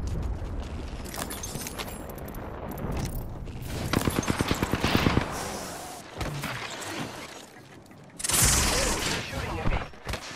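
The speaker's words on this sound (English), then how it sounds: "Shooting at me." Rapid automatic gunfire bursts in an Apex Legends match, with a fast rattling volley in the middle, loud and dense over continuous game noise, then heavier blasts near the end.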